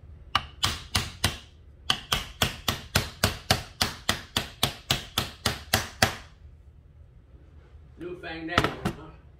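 Steady series of about twenty sharp, evenly spaced taps as a Honda starter's magnet housing is knocked down onto its armature, loud and close, followed by a short burst of clatter.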